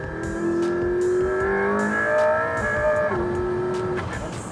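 A McLaren P1 supercar in race mode with traction control off revs its engine hard, the pitch climbing and dropping through several loud, close surges over a steady mechanical roar.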